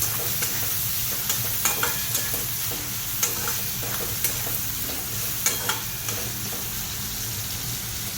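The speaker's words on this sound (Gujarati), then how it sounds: "એના અંદર નાખીએ લીલા મરચાં અને ટામેટાં." Green chillies and tomatoes fry in a pan while being stirred: a constant close sizzle broken by regular scraping strokes of the spoon, with no voices.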